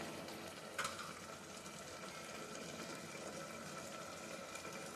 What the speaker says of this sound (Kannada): ಸೊ ಕಾಯಿನ ಹಾಕ್ಕೊಂಡು ಒಂದು ರೌಂಡ್ ನೀಟಾಗಿ ಮಿಕ್ಸ್ ಮಾಡಿಕೊಂಡು